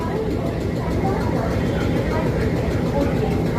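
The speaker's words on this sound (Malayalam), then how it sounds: "ഇത് കണക്ട് ചെയ്യാൻ എഞ്ചിൻ അവിടെ നിന്ന് വരുന്നുണ്ട്" Diesel locomotive approaching to couple with the Mettupalayam–Ooty toy train: a continuous low engine drone and rail rumble, fairly close and even in level throughout.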